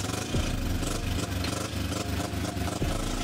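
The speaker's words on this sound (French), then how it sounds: "le moteur qui fait un bruit bizarre les gars" Car engine making an odd noise after a skid, a continuous rough, rumbling drone with fluctuating pitch and some whining sweeps, close and steady with no talk.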